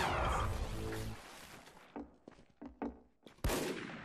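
Gunfire sprayed in a shooter video game: a dense burst of rapid shots followed by a few scattered single cracks and thuds, with a sharp final shot at the end.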